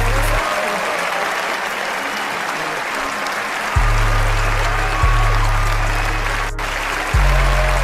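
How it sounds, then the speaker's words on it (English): Clapping at an online community awards show, a continuous wash of applause under heavy repeating low bass tones from music, with a sharp click near the end. "Clap it up. Clap, clap, clap."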